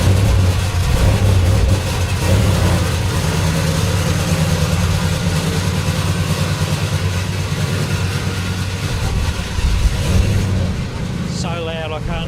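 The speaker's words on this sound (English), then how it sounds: "not even worth me trying to talk while the cars are moving" Race cars at an enduro event idling and moving in and out of the paddock, a loud continuous low engine rumble close by with revs rising and falling, a voice talking faintly underneath.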